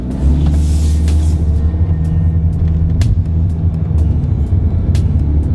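A 2018 Mitsubishi Eclipse Cross pulls away slowly from a standstill, heard from inside the cabin as a continuous low rumble that builds gradually, with a few faint clicks and knocks on top.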